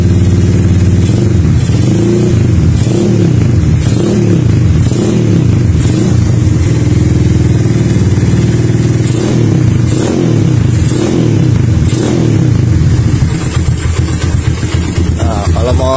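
Suzuki Satria FU motorcycle fitted with a PE 28 carburetor, heard close up idling and then revved repeatedly in short bursts, the engine note rising and falling, with someone talking over it.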